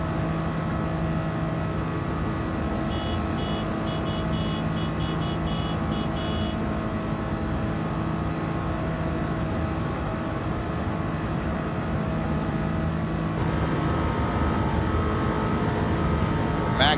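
A 2018 Subaru BRZ engine is held at steady high revs, a loud continuous drone near the 8,000 RPM limit on a timed lap, with a brief whining overtone partway through.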